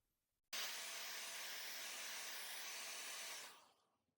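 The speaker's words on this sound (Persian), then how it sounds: "وقتی که من اینو سشوار میزنم روی لبه" A hair dryer blows hot air onto the edge of a handmade paraffin wax candle, switching on abruptly with a loud, steady rushing whoosh for about three seconds, then winding down and fading out.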